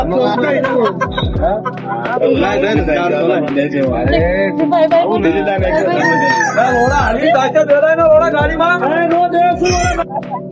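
Native country roosters crow repeatedly at a busy open-air poultry market in Pune, several loud, near crows rising over constant close conversation and crowd chatter.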